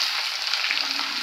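Onions, shallots and green chilies fry in hot oil for a Kerala-style beef fry, giving a steady, close, dense sizzling hiss with a faint crackle throughout and no voices.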